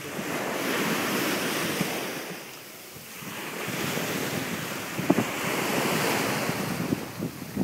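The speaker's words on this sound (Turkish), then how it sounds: "Çok dalga var." Sea waves wash and break continuously along a beach at night, with wind buffeting the microphone and a brief lull in the middle.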